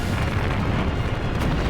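A big explosion from an anime episode: a continuous heavy rumbling boom, loud and sustained throughout with dense low-end roar and no speech.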